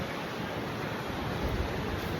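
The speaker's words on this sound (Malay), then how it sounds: "Ni adalah suasana dekat Bondi Beach" Waves and wind at Bondi Beach, Sydney, heard from a raised platform above the sea: a steady, full wash of surf and wind rumble that fills the short stretch without a break, with no voices.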